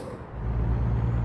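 Air brakes on a heavy truck in American Truck Simulator give a steady rushing hiss over a low engine rumble, heard alone and close for a brief moment.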